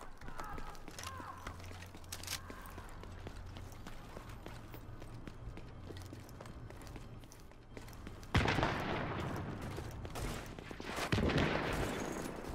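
Gunfire in The Division during a Lincoln Tunnel firefight, with rapid bursts that grow louder and denser toward the end against a busy combat background.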